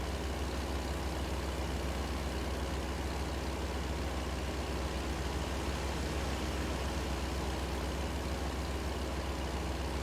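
A heavy truck engine drones on the road in American Truck Simulator, a steady, dense rumble with broadband noise that holds constant throughout.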